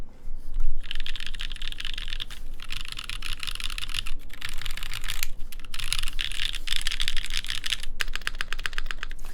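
Steady fast typing on a Keycult 2/65 mechanical keyboard fitted with 65 gram TX springs, a dense run of close clacky keystrokes with a few brief pauses, no talking.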